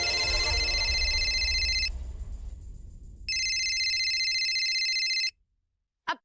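A telephone rings in a Hindi TV serial scene, a steady electronic ringtone in two long bursts separated by a short gap, loud and close, with faint background sound under the first burst.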